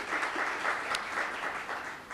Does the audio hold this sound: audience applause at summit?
yes